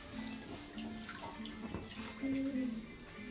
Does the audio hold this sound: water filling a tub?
yes